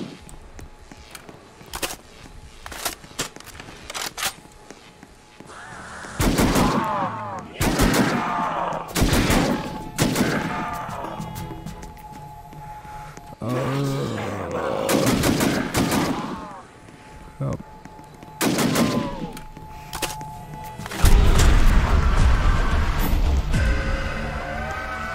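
BAR rifle gunfire in Call of Duty Zombies, fired in repeated bursts of loud close shots that come and go across the stretch, with game ambience and occasional sounds underneath.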